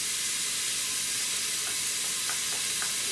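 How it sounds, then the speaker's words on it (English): Onions and garlic sauté in an Instant Pot, giving a steady close hiss of sizzling with a few faint ticks and pops, and no voices over it. "we're just going to saute this for about 5 minutes or so till the onions are translucent"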